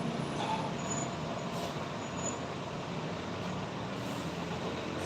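An Asan bus from Bengkulu arriving in Padang in the morning, its heavy diesel rumble and air-brake hiss forming a steady, close, continuous wash of noise throughout.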